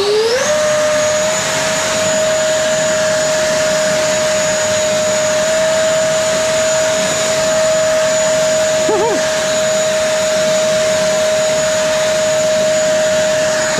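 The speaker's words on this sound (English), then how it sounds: "The next thing is I want to do a little engine test." An E-flite F-15 Eagle RC electric ducted-fan jet spools up at a test run into a loud, steady high whine that holds at constant pitch for over ten seconds with only a brief wobble near the end.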